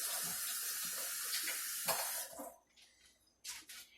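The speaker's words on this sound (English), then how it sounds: "Rinsing off my utensils." A kitchen tap runs strongly as utensils are rinsed under it, then the water shuts off and a few light clinks and splashes follow in the quieter space.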